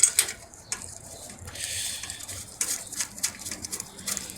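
A wrench tightens the battery bracket on a 2005 Toyota Highlander, giving short ratcheting clicks in quick bursts with brief pauses between them, close and fairly quiet.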